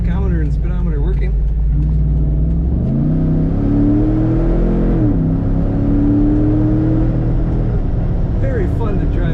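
A 2013 Jeep Wrangler Rubicon 4x4 engine revs up and pulls through rising gear tones over steady road and wind noise, heard from inside the cabin with a voice talking faintly at the start.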